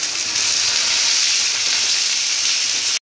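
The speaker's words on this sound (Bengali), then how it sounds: "এবার ভেজে রাখা আলুটা দিয়ে দেবো।" Fried potatoes added to a fish curry pan with oil, tomato and ginger, giving a loud, steady, close hiss of sizzling that holds evenly for about three seconds and then cuts off abruptly, with no talking.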